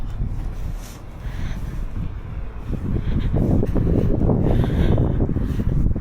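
Wind roars across the microphone while cycling in the Netherlands, a constant low rush that grows louder and gustier partway through, with no voices.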